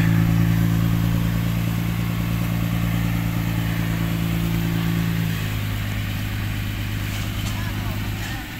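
Dump truck engine stuck in a mud rut, droning loud and steady with a heavy low hum, the pitch shifting partway through as it strains, with people talking faintly over it.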